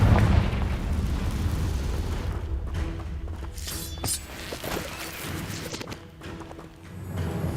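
Confringo fire spell blasts in Hogwarts Legacy, heard as several loud booming bursts and crackling impacts that ring out over continuous game ambience and then fade in a rumbling tail.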